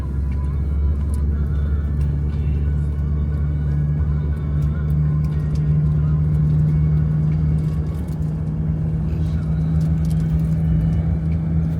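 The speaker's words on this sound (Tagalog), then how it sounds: "So ito palang sasakyan natin guys" Steady low engine rumble and road drone from inside a car riding on a snowy mountain road toward Big Almaty Lake in Kazakhstan, continuous and close, with faint ticking noises above it.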